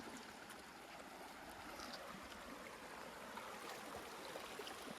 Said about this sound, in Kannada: ಇಲ್ಲಿ ಸ್ಟ್ರೀಮು ಆ ಬೆಟ್ಟದಿಂದ ಅರಿತಿದೆ